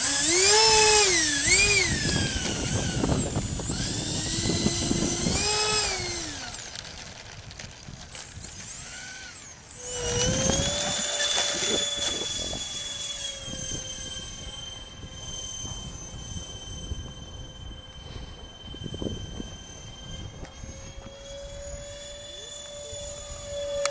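An RC A-10 model jet flies overhead, a loud steady high whine from its ducted fans that sweeps and shifts as it passes, with fainter rumbling stretches between louder passes.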